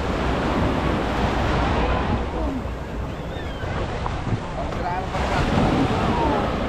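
Rough sea churns around a small boat on an island-hopping ride off Mariveles, Bataan: a constant loud wash of waves and wind buffeting the microphone, with no clear break.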